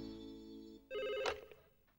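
A telephone rings in an animated cartoon scene: a steady electronic ring tone for about a second, then a louder, brighter burst of ringing that fades out, with no voices.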